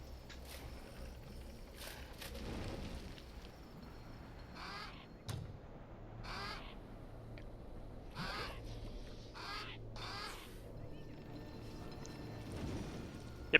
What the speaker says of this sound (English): So I'm going to kill that crow now so he can't see what I'm actually doing